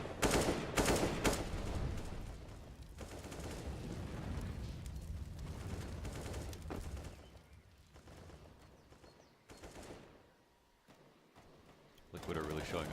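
Rapid SMG gunfire in a CS:GO professional match on the Inferno map, bursts of automatic shots crowding the first half alongside a commentator's continuous talk, easing off later with a few more shots near the end.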